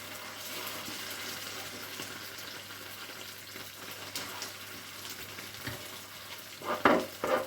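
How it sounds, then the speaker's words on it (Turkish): Meat sizzles and crackles steadily in a hot pan, frying with okra and tomato paste, with a few louder stirring scrapes toward the end. "Şimdi beraber kızartalım etle beraber."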